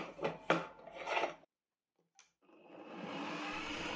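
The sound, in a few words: hole saw on a drill press cutting solid wood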